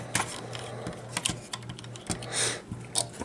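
A plastic toy turret from a Hot Soldiers General Commander Prop Sky Pillar set is opened and closed, producing faint, quick clicks and rattling taps in an irregular run, close up, with no talking.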